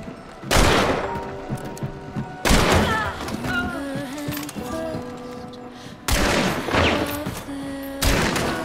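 Heavy gunfire in the game Hunt: Showdown, with loud bursts of shots around 0.5, 2.5, 6 and 8 seconds and lighter reports and in-game sounds between them.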